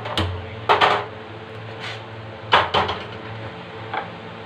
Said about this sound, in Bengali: গ্যাস অন করে কড়াই বসিয়ে নেব।